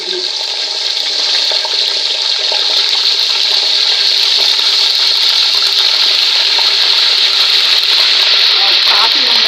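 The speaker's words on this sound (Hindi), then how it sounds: "तो अब हम डालेंगे इसमें अदरक लहसुन।" Ginger and garlic hitting hot oil in a pan for a green bangda fish curry, a loud, steady hissing sizzle that holds without a break, close up, with faint clinks near the end.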